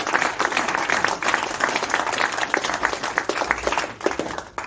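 A club gathering gives a warm round of applause: dense, steady hand clapping from a small indoor crowd, loud and continuous for several seconds before tapering off slightly at the end.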